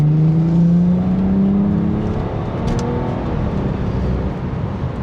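A BMW F30 with a modified exhaust and downpipe accelerates hard, its loud engine drone rising steadily in pitch through a gear, then settling into a rougher, steady roar heard from inside the car.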